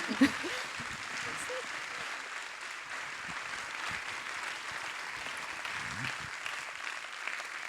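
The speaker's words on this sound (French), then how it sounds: "On leur fait un tonnerre d'applaudissements." Warm, dense applause from an indoor audience at an evening talk on glaciers, a steady roar of many hands clapping that holds throughout, with faint voices scattered underneath.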